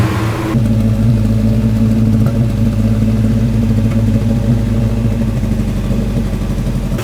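A Volvo 240 engine fitted with Dellorto twin carburettors idles steadily and loudly up close, a dense low rumble with a slight lumpy, misfiring unevenness and no voices.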